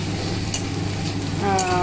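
Eggs frying for egg bhurji in a home kitchen, a steady close sizzle with scraping stirs, building slightly louder near the end.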